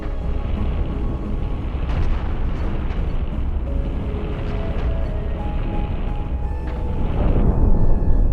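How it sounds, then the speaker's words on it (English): A spaceship reactor explodes in the space combat game Cosmoteer, a sustained loud roar of blasts and crackling bursts lasting several seconds and swelling toward the end, with no voices over it. "that's a reactor explosion right there"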